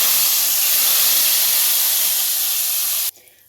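Hot oil tempering with dried red chillies and cumin is poured into kadhi, bringing a loud, continuous sizzle and hiss that holds steadily for about three seconds and then cuts off abruptly to near quiet.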